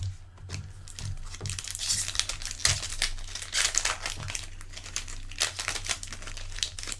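Cardboard booster boxes for Magic: The Gathering Core Set 2019 being folded, with dense, close crinkling and crumpling of packaging continuing steadily throughout, the sharp rustles repeated in uneven bursts.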